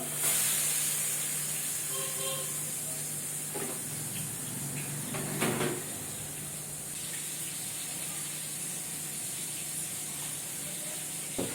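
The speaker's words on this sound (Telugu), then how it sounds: "ముందుగా మ్యాగ్నేట్ చేసుకున్న ఫిష్ని తీసుకుంటున్నాను దీన్ని ఆయిల్లో వేస్తున్నాను" Marinated fish dropped into hot oil, a soft continuous sizzling hiss with a few brief louder crackles and bursts partway through, fairly quiet and steady.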